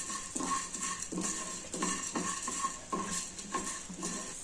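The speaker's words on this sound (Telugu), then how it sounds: "కొద్దిగా వేగిన తర్వాత మిరపకాయలు వేసి వేయించుకోవాలి" Coriander seeds and red chillies dry-roast in a pan, a spoon scraping and rattling against the metal in regular strokes about once a second, with faint crackling underneath.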